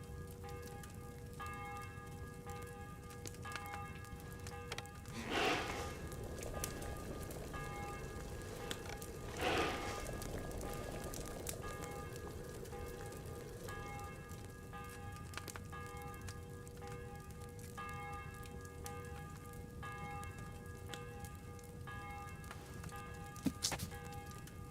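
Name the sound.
bell tolling in Kingdom Come: Deliverance II video game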